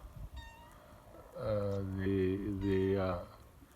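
A cat meows close by near a tractor outdoors in a garden at sunrise, one drawn-out harmonic meow followed quickly by a second, preceded by faint low rustling.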